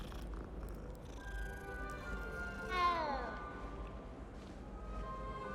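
A cat in the video game Hogwarts Legacy gives a single faint, drawn-out meow midway, over steady game background sound and someone talking quietly.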